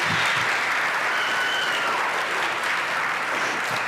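A seated audience applauds student orchestra members, cellists and violinists, at a spring concert, a dense, steady wash of many hands clapping at even loudness throughout, with no voices standing out.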